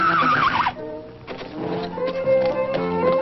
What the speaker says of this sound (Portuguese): É o Mato Raso e o seu cavalo capega, sem dúvida.